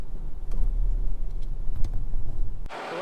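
A car's low engine and road rumble drive through heavy Los Angeles city traffic, steady and close from inside the cabin, cutting off abruptly into a brief hiss near the end.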